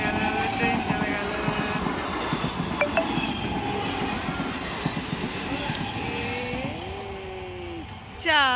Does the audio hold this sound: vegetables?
no